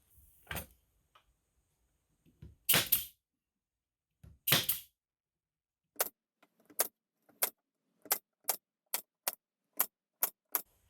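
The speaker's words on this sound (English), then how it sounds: "Today, I'm going to be utilizing a nice little tool that I have. It's a Porter cable brad and nail gun." A Porter Cable brad nail gun drives brads while building a vintage camper birdhouse: a few scattered knocks and bursts come first, then a quick, evenly spaced run of about ten sharp, loud pops with no one talking.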